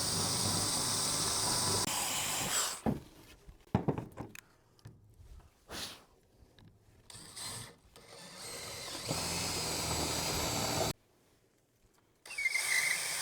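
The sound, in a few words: drill with Forstner bit boring hole in 2x4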